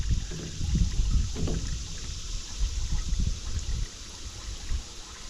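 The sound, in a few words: engine oil draining from Cat 313 excavator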